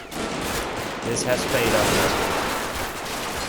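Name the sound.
gunfire in video game Combat Mission: Battle for Normandy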